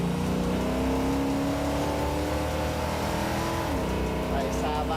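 A Dodge Challenger pulls hard under acceleration, its loud engine note rising steadily through the gears, then dropping at a shift near the end, close and continuous with road noise beneath.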